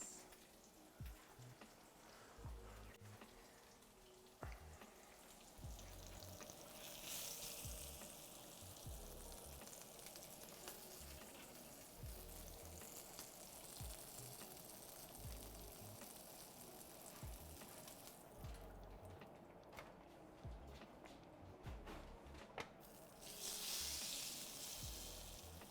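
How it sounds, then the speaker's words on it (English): A coffee-crusted rack of lamb sizzles in a hot pan, a soft, continuous frying hiss with crackles and occasional pops, quiet and close, with no one speaking. "Those sizzle sounds."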